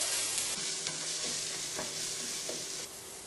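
Ginger and garlic frying gently on low heat, a constant soft crackling sizzle with a few faint utensil taps, close and uninterrupted by speech.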